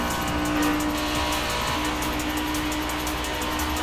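A Ferrari F430 Scuderia engine in the video game Forza Horizon 5 drones steadily at high revs with a constant, slightly buzzy tone, like a racing car cruising, with no talking.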